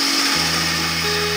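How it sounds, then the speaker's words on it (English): A wood lathe spins up while turning a hollow form pot, a loud steady motor hum with a low drone that settles into an even whine, close and continuous with no talking. "But with the lathe running fairly slow,"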